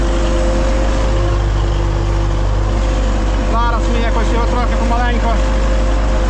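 MTZ 82.1 tractor engine running in a field, a loud, steady low rumble throughout, with a voice briefly heard over it.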